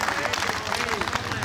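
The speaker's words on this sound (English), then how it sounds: "Can I get a round of applause for those two people and everyone connected with them" An outdoor crowd at a barbecue competition claps in a dense, steady burst of applause, with no pauses through the short stretch.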